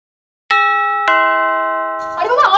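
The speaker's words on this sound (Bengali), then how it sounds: "ভর দুপুরে কে কলিং বেল বাজাচ্ছে?" A household calling bell at midday gives two clear ding-dong chimes, each ringing out and decaying, before a voice starts speaking at the end.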